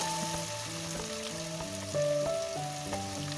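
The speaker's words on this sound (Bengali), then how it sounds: "মটরশুঁটি দিয়ে দিলাম এবং সব একসঙ্গে আমি এখন ভাজবো" Kohlrabi, potato and peas fry together in a pan with a steady soft sizzle and crackle, fairly quiet and close, with no voices over it.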